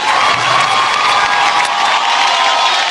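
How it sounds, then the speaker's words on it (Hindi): Loud, continuous cheering and applause from a large audience at a television industry award show, a dense crowd roar with whoops that holds steady throughout. "जोरदार तालियां फॉर स्टार गिल्ड अवार्ड।"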